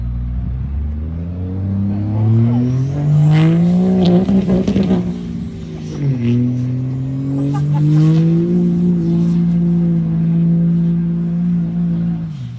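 A powerful 800-horsepower truck engine revs loudly, climbing and dropping in pitch through repeated throttle bursts, rough and close throughout.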